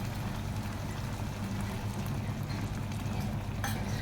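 Cornstarch slurry stirred into sizzling chilli idli in a hot pan, a steady low frying crackle with soft stirring scrapes throughout, close and alone without talk.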